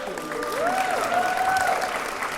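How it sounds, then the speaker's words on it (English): Audience applause at a women's entrepreneurship master class, a full, even roll of many people clapping, with a voice briefly calling out or whooping over the middle. "Let's give Dr. Nicole Thompson a round of applause for sitting"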